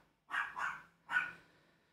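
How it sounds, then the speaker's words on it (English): Dogs bark at a home in a few sharp, fairly close barks: two quick ones in succession, a short pause, then a third, with quiet between and no talk. "Sorry about my dogs, by the way."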